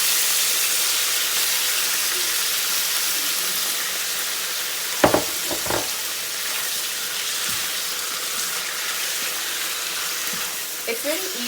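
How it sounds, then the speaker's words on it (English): Steady sizzling and hissing of thinly sliced chicken breast sautéing in a hot pan for stir fry, with a couple of brief clatters of utensils partway through. "It's just sauteing the chicken."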